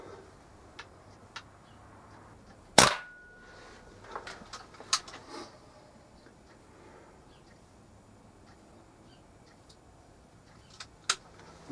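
A Kral NP500 air rifle fires a single sharp, loud shot, followed by a few faint clicks and handling sounds in an otherwise quiet setting.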